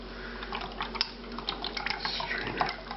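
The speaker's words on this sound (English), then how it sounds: "Pour the fat that the lamb was cooked in." Cooled lamb confit cooking fat pours through a strainer, a close trickling stream with small drips and splashes, no talking.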